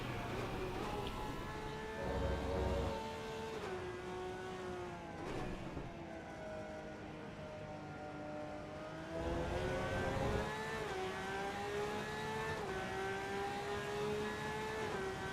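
A race car engine in the racing game AC EVO, driven online at the Nordschleife, holds a steady tone that climbs and falls with shifts and throttle changes, moderately quiet and with no talk over it.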